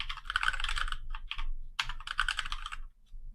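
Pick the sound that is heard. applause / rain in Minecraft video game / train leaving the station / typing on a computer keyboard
typing on a computer keyboard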